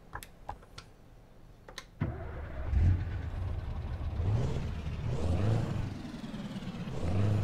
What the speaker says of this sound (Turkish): Şöyle bir çalıştıralım aracı.